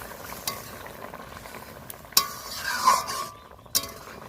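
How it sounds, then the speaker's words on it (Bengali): A fish curry in a pan being stirred after cumin paste goes in, with a steady low sizzle and scraping spoon strokes, a few sharp clinks of utensil against the pan standing out. "আমি এবার জিরে বাটাটা দিয়ে দেবো দেখো আমার জিরে বাটা দিয়ে নামিয়ে দেবো"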